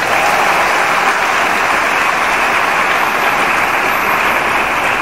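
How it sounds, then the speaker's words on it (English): Dense, steady applause from a church congregation at a Catholic priestly ordination at St. Paul, loud and close, filling the space evenly without pause or talk. "Give them a round of applause."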